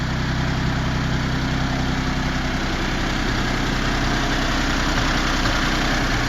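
A Citroen SM engine idles evenly and close, a dense continuous hum with a steady low throb and no break for the whole stretch.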